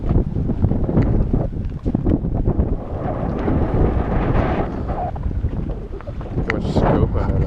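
Strong wind at sea buffets a sailboat, gusting roar and rumble battering close by with rushing water, loud and uneven, alone without talk.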